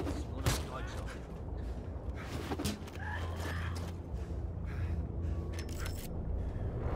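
Rapid shotgun blasts from a super automatic shotgun in Wolfenstein II ring out in several sharp bursts over a dense, continuous game soundscape.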